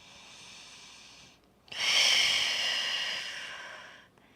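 Deep breath during a yoga exercise: a quiet inhale, a brief pause, then a long, breathy exhale that starts strong and slowly fades, close to the mic with no talk.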